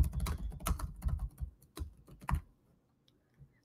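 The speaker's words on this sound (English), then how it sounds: "Now we can type the rest." Fingers type on a computer keyboard in quick clustered keystrokes for about two and a half seconds, close and clear, then stop, with only a faint click after.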